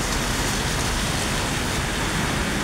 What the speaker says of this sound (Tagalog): Kay nag-ulan gid siya.